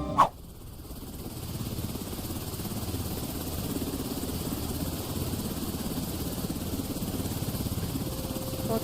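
A helicopter in the zombie quarantine checkpoint video game Quarantine Zone: The Last Check drones with a steady rotor thrum, heard from inside, loud and constant after a brief click at the start.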